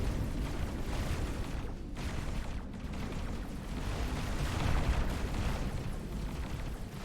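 A big explosion in a space strategy game, a sustained, rumbling roar of blast noise that swells and holds at a steady loud level without distinct separate bangs or any voices.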